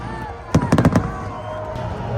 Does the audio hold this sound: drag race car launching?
no